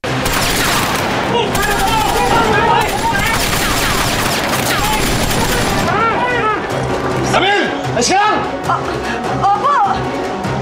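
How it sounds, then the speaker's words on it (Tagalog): Sustained rapid gunfire as two attackers open fire on people eating in a Filipino TV drama scene, loud bursts of shots filling the scene with dramatic music and shouting voices mixed in. "At agad silang pinaulanan ng bala."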